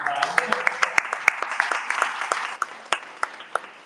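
Modest applause from a small audience at a talk, with distinct individual claps standing out in a loose rhythm that thins toward the end, with a voice speaking briefly over it.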